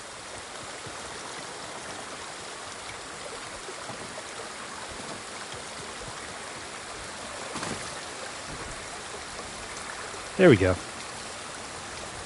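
Steady rushing waterfall in the video game Ghost of Tsushima, a continuous broadband wash of flowing water holding at even level throughout, with a brief voice cutting in near the end.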